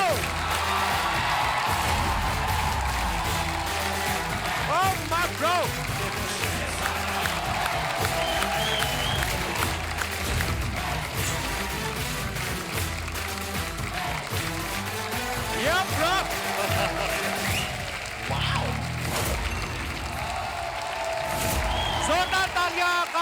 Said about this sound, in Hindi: जोरदार तालियां कार्तिक के लिए